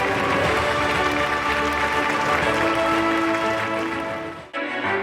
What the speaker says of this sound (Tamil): ஒரு அரங்கம் நிறைந்த கைத்தட்டலோடு.